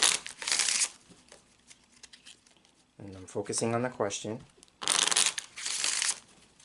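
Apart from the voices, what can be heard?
shuffling Petit Etteilla cards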